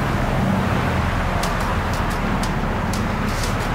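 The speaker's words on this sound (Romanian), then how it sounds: "Noi mergem cu 120 pe autostradă și mi se pare că nivelul de zgomot la interior este bun." Steady road and tyre roar inside a Mitsubishi Eclipse Cross PHEV cruising at 120 km/h on a highway, a continuous even hum with faint wind, no talking.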